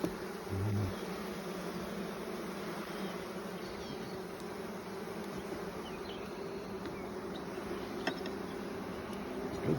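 Honey bees hum in a dense, continuous buzz during a hive inspection, close and steady the whole time, with faint handling sounds and no talking.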